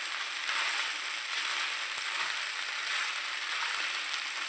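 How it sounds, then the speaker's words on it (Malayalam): Idli upma frying in a pan while being stirred, a steady soft sizzle hissing evenly throughout with a faint scrape near the middle. "ഇനി ഇത് നന്നായിട്ട് ഇളക്കിയിട്ട് ഇത്തിരി മൊരിയുമ്പോൾ"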